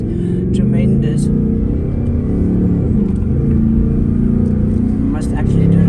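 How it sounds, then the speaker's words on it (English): A Ford Mustang GT 5.0 with a manual gearbox rumbles and revs nearby on the street, a loud, deep engine drone with shifting pitch, partly mixed with talking voices. "we'll do a manual now, and you'll hear the downshifting is tremendous"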